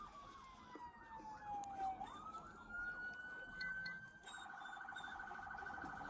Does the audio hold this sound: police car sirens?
yes